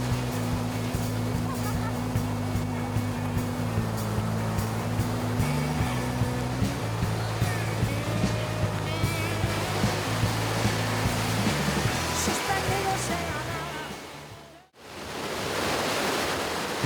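Atlantic Ocean waves on a Canary Islands coast roll in as a steady, broad wash of surf, with a low droning tone underneath for the first several seconds and a brief dropout near the end.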